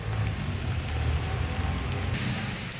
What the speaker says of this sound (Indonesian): Intensitas hujan yang tinggi membuat arus lalu lintas di Jalan TB Simatupang Cilandak, Jakarta Selatan lumpuh.